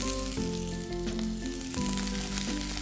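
Sliced capsicum tossed into hot oil with onions and slit chilies in a pan, a loud continuous sizzle and crackle with a steady hum underneath, no voices.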